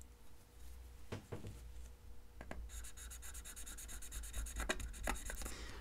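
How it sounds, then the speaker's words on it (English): A level 8 hardness pick scratches across a matte glass screen protector on an iPhone 13 Pro Max, faint, close, with a few sharp strokes followed by a rapid, rhythmic rasping run, no talking. "that's definitely scratching it a little more"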